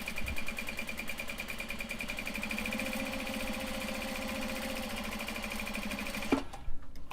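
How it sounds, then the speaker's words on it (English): A sewing machine runs steadily, stitching the second side of a capybara-print fabric bag made from Japanese fabric, a continuous close mechanical whir that stops abruptly near the end, followed by a couple of brief handling clicks. "it needs its other side stitched here"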